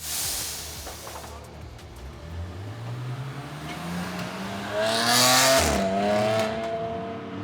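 BMW M4 GT4 Evo race car on a qualifying lap of the Nürburgring, its engine rising in pitch through the gears, growing louder toward a peak with a brief downshift, while voices talk underneath.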